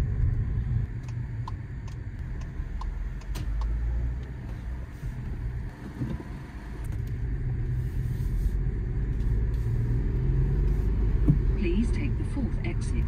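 A car drives along UK roads with a steady low engine and road rumble heard from inside the cabin, building slightly louder in the second half, while people talk over it.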